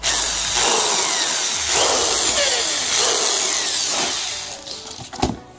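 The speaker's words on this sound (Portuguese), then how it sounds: "Vou fazer aqui a broca, o furo com uma broca aqui de 3 mm." A power drill with a 3 mm bit bores a hole in a miniature model, a steady high whine running for about four seconds before winding down, with a few clicks and a knock at the end.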